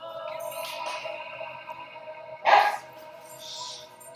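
A pet dog in a room with music playing lets out a single short, sharp yip in the middle of the clip, with soft whimpery sounds around it over the steady background music.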